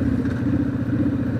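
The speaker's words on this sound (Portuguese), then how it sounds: "Nossa, eu não canso de andar de moto mais." A steady motorcycle engine drone with rough mid-range rumble and wind, continuous throughout, as if heard while riding.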